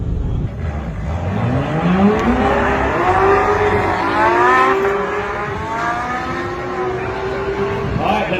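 A LaFerrari and a Porsche 918 drag racing down a strip give loud engine howls that climb steeply through the gears with quick shifts, rising and easing as the cars pull away, over crowd and announcer talk.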